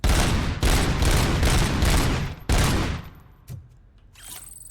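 Rapid gunfire in the video game RoboCop: Rogue City, loud sustained bursts of fast shots for about three seconds, broken by a brief pause, then trailing off into a few quieter shots.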